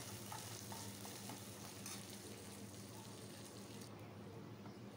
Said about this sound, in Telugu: కొంచెం కరివేపాకు కూడా వేసుకొని ఈ పోపు దినుసులు బాగా ఫ్రై అవ్వాలి